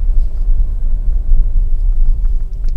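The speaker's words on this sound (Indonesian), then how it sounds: "Jadi tanpa kita gas, mobil sudah maju." An automatic car creeping forward without throttle, a steady low engine and road rumble heard from inside the cabin, fairly loud and unbroken.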